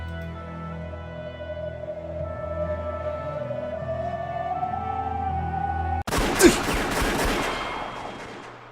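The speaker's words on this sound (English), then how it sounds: "Immediately, several gunshots rang out." A loud burst of overlapping gunshots from a volley in the visual novel game Rose Guns Days erupts suddenly after a stretch of sustained music, the dense crackle continuing for a few seconds.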